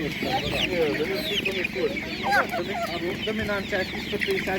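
Chickens clucking and squawking at a Ukrainian livestock market, a busy, continuous chorus of close fowl calls with market bustle underneath.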